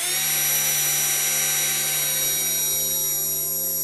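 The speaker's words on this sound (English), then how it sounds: "When fastening these together, it's a good idea to pre-drill again." A power drill whines continuously and loudly up close, its pitch holding steady as it pre-drills into wood.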